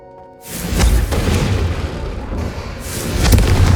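Confringo fire spell blasting candelabras in the Hogwarts Legacy video game, a deep loud boom after a brief quiet moment, a rolling fiery roar, then a second strong burst near the end.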